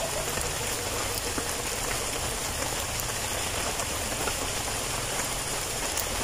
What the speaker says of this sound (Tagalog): lalong lumalakas po yung ulan dito sa amin